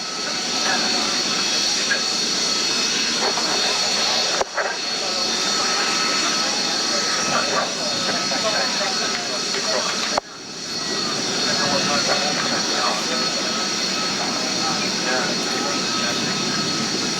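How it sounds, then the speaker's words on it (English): A Harrier jet flies at the 1988 Biggin Hill airshow, a loud roaring, rushing jet noise that sustains throughout with two brief cuts, while a commentator speaks over a public address. "Harrier."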